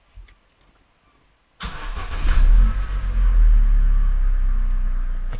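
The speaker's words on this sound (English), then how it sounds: "Now I can start my car." A 2006 Opel Zafira with an Easytronic semi-automatic gearbox cranks briefly and fires up, settling into a loud, steady low idle rumble close by after a quiet start.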